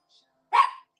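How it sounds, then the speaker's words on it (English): A single short, sharp bark from a pet dog indoors, loud and close, standing alone after a faint earlier yelp. "I'm sorry about my dog."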